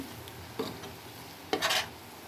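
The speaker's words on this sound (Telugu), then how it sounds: "ఇది కొద్దిగా వేగాలి ఫ్రెండ్స్ నూనె తేలేంతవరకు వేపుతాను" Ginger-garlic paste and cumin frying in oil until the oil separates, a soft steady sizzle punctuated by two brief spatula stirs and scrapes.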